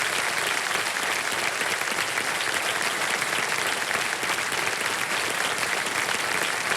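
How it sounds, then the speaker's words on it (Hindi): Sustained applause from a studio audience on a televised Hindi quiz show, steady dense clapping filling the whole stretch at an even, loud level with no gaps. "ताली बजती रहे।"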